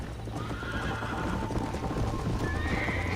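A horse gallops in Red Dead Redemption 2 during a race, with steady rapid hoofbeats and a whinny rising over them, loud and continuous for about three seconds with no talk.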